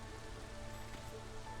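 Rain in a video game: a steady, dense patter of raindrops on a surface, even and unbroken throughout, with no voices.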